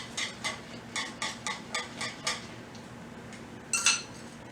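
A whisk beating grits in a pot, producing about eight quick, regular scraping strokes close by, then a pause and a final brighter clink, with no talk.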